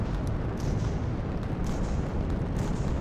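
Fireworks in the video game Fireworks Mania burst in a dense, continuous barrage of low booms and crackling pops, rumbling steadily throughout with no clear gaps.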